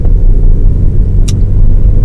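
A manual car pulls away in first gear with a loud, steady low engine rumble close by, the drone holding even throughout and a brief higher click midway.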